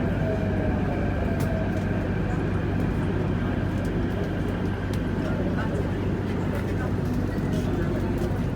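An MTR Kwun Tong Line C-Train running between Choi Hung and Ho Man Tin, with a loud, steady rumble and roar heard from on board throughout, plus faint clicks.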